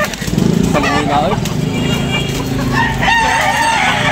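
Roosters crow and cluck at a busy chicken market where fowl are sold, loud and close, amid crowd chatter and the drone of a passing motorcycle.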